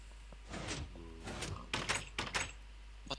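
A Minecraft door slides open with a few soft swishing movements and sharper clicks in quick succession, close and moderately quiet.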